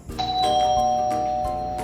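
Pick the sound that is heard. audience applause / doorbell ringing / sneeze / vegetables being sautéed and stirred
doorbell ringing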